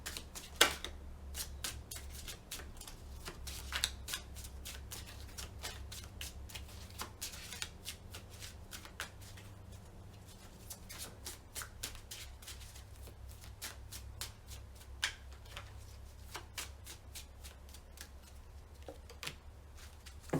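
A tarot deck handled and shuffled, giving soft, steady papery riffles and flicks over about twenty seconds, faint and close, against a low background hum.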